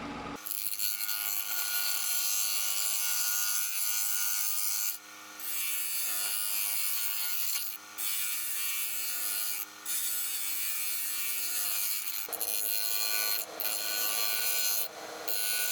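A live-edge black walnut piece spins on a wood lathe at about 1200 rpm. A steady motor whine and continuous scraping of the tool on the wood are broken by several short pauses, with no talking.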